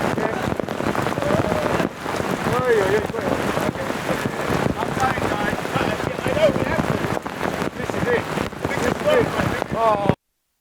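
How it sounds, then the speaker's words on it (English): Heavy monsoon-like rain pours down steadily outdoors at a public speaking gathering, a dense hiss of drops with wind buffeting the microphone, while people talk and shout over it throughout. "This is like monsoon rain."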